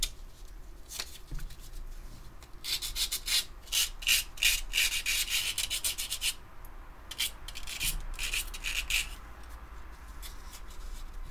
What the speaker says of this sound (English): there's just a few sharp edges I'd like to sand down